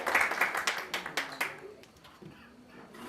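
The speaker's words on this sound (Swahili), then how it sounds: "Tumpigie makofi vizuri." Brief clapping from an audience at a Kenya Prisons women's staff excellence awards ceremony, a short burst of hand claps in the first second and a half that fades into quieter room noise.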